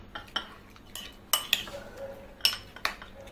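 A spoon stirs mustard mayonnaise with Worcestershire sauce and lemon juice in a bowl, giving a few sharp clinks and scrapes of metal against the dish with short pauses between them, close and fairly quiet.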